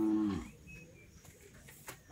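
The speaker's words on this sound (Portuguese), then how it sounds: "Você vê que tem muito gado aqui, ó." A single low cow moo sounds at the start, close and loud, then fades into quiet outdoor background at a cattle market in Alagoas, Brazil.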